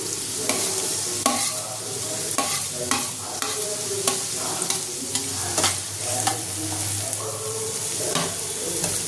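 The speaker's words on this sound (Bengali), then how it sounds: "এবার ওটা হালকা লাল করে আমি ভেজে নেব" Chopped capsicum, green chilli and garlic sizzle in a pan while a spoon stirs and scrapes at irregular intervals, the frying hiss steady and close throughout with no voices.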